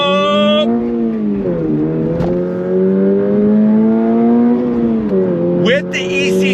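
A 2025 Toyota GR86 Hakone Edition engine pulls hard on throttle, its note climbing steadily through the revs with a brief dip at a gear change, loud from inside the car.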